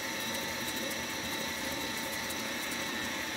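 Electric mixer on high speed whisking peanut butter cream cheese icing with added milk, giving a steady, close mechanical whir with a faint gritty rattle and no pauses.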